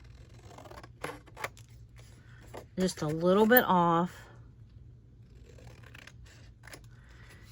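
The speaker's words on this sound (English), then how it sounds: "I'll just do this with my scissors." Scissors trim the edge of a paper journal page, a quick series of close, crisp snips in one short burst, with a person speaking softly just before.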